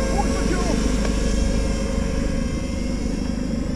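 DJI FPV drone motors roaring steadily as the throttle is pushed, a dense continuous buzzing whine close by that holds level throughout, with a voice talking over it.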